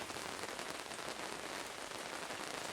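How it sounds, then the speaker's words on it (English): Rain falls outside at a hunting camp during a Santiam blacktail hunt, a steady close patter of drops on surfaces with a soft, even hiss and no voices. "it's raining outside, and it has been all day"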